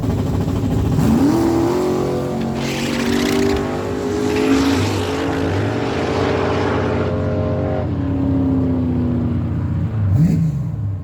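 A 1967 and a 1970 Chevy Camaro launch side by side in a drag race at a dragstrip, engines revving hard with rising whines as they accelerate away, loud and close, then a second rev burst near the end.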